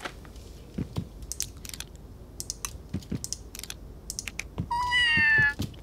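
Puss in Boots, a cartoon cat in the Scribblenauts Unlimited video game, gives a short meow near the end. Scattered clicks and taps come before it, and there is no talk.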